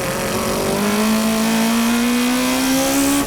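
Racing cars, including the Spirit Hachiroku, power through the Dunlop corner: a loud engine note climbs steadily in pitch as a car accelerates close by, with tire noise mixed in and no talk.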